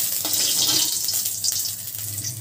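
Water pours steadily over potatoes in a cooking pot, a close, continuous rushing splash with no talk.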